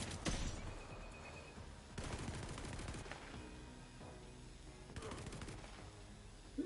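Rapid bursts of video game gunfire crackle loudly in several volleys, with a sharp burst at the start, another around two seconds in, and a third near five seconds, over a busy game soundscape.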